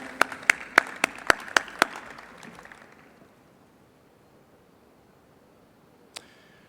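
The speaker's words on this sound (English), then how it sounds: "Give her a round of applause." Sparse audience clapping at a swine veterinary congress closing ceremony: a handful of sharp, evenly spaced claps for about two seconds that fade into quiet room tone, then one isolated clap near the end.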